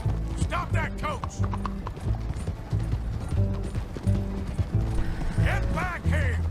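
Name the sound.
horse-drawn coach hooves in video game Red Dead Redemption 2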